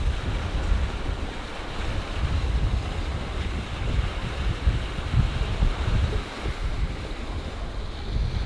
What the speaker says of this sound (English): the wind shifted from southwest to north and quite strong within half a minute